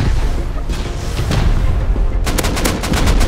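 Loud, dense gunfire in the video game Rust as a turret is shot at, with a continuous roar of shots that breaks into a rapid, evenly spaced burst near the end.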